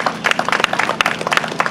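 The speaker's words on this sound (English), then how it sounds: "Everyone deserves a round of applause." Outdoor crowd applauding at a pesticide-free parks announcement in Morningside Park, a short burst of dense, close hand clapping from a small gathering, loud and uneven.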